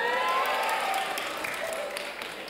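An audience at a large Islamic religious gathering breaks into applause, a dense wash of clapping that starts full and slowly tapers, with a faint voice running underneath.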